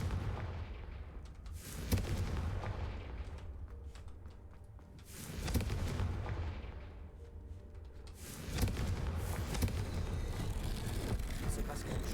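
Casting the Confringo spell in the video game Hogwarts Legacy sets off booming, explosive blasts in several heavy surges with rumbling tails, while a voice speaks over the action.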